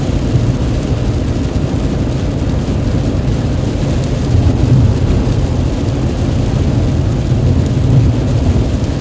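Heavy rain pours steadily during a thunderstorm over the Fort Worth and Arlington area of Texas, a loud, dense hiss with a continuous low rumble of thunder swelling slightly midway and near the end, no voices.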